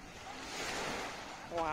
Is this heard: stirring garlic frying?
no